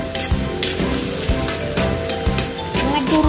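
Cooked mung beans from a casserole pot hitting a hot pan for ginisang munggo, a loud close sizzle with repeated stirring clanks and scrapes in an uneven rhythm.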